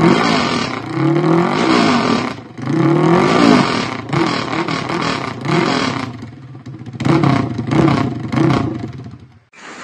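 A freshly rebuilt Honda EX5 motorcycle engine with an S1R 62mm bore-up kit revs hard in bursts close by, rising and falling roars with clattery idle dips between them.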